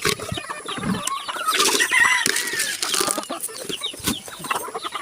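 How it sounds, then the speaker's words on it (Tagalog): A flock of chickens being fed on a farm, busy clucking and squawks with wing flapping, close and lively, with a person talking briefly among them. "Sus kadaghan din manok guys"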